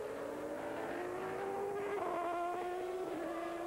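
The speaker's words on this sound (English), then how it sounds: "You can hear the engines not quite on maximum revs." Racing car engines drone steadily at high but not peak revs during 1993 European round qualifying on a greasy, fairly narrow circuit, pitch rising slightly, with a smooth continuous roar and no voices.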